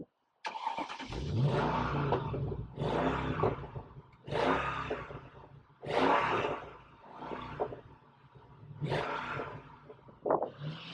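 A Mercedes E55 AMG V8 revs on the spot in a series of about five sharp throttle blips, each rising to a loud roar and falling back to idle, heard close and alone.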